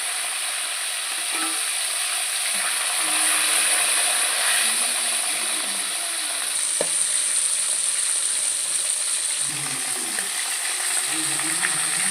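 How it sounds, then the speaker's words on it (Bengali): Bhola fish coated in salt and turmeric sizzles steadily in hot oil in a kadai, a continuous bright hiss with occasional pops and crackles, close by and fairly loud, with no talking. "নুন হলুদ মেখে রাখা মাছগুলো আমি ভেজে নিচ্ছি"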